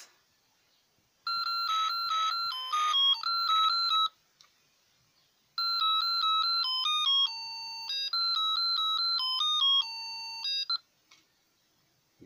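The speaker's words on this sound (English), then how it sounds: "connected to a buzzer made of a ceramic transducer" A ceramic buzzer sounds loud electronic tones, first a burst of stuttering beeps, then after a pause a longer melodic sequence of shifting pitches, ending abruptly.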